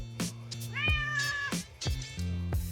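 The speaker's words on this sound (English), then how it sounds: "The cat showed up." A house cat meows near a garage where an MX-5 Miata is being worked on, several clear drawn-out calls in a row against a steady low hum.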